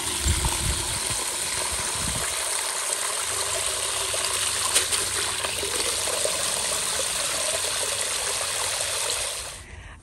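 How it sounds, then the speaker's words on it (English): Water pours steadily into a container in a garden, a constant, close rushing stream that holds for about ten seconds and then fades at the end. "and then we're gonna go fill it up with water."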